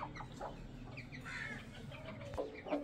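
Chickens cluck and chatter nearby in a busy yard, a few sharper calls rising near the end over steady low background noise.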